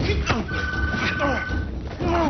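A telephone rings in a tense film scene, a steady electronic ring tone sounding through dense background sound and voices, fairly loud and continuous.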